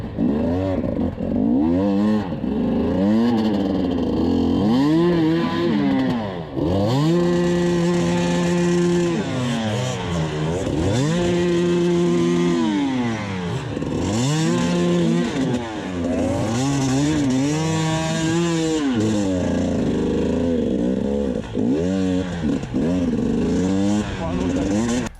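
Enduro motorcycles racing on a track, engines revving up and down in rising and falling sweeps, several bikes close by and loud throughout without a break.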